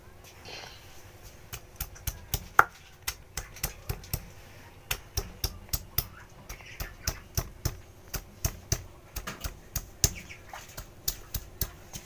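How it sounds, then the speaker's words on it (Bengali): Ginger being ground by hand on a stone slab, with a steady run of sharp, evenly spaced knocks and scrapes close up and fairly quiet, going on for several seconds in an indoor kitchen. "এবার দিয়ে এবার আদাটা বেটে নিই।"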